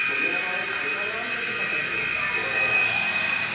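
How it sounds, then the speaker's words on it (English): A remote control toy mini helicopter runs nearby with a steady high-pitched whine and motor buzz, continuous and unchanging throughout. "Our helicopter is running."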